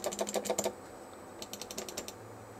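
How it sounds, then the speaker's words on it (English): A computer mouse clicks rapidly and faintly in two bursts of quick, crisp taps, separated by a short gap. "madly clicking, left clicking, right clicking, that doesn't do anything."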